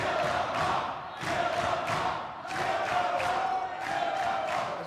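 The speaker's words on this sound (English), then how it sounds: "Crowd there chanting "Kill the Moth."" A wrestling crowd at a Late Nite Lucha event chants "Kill the Moth" in a loud, rhythmic, repeated pattern of about four phrases, with no other sound over it.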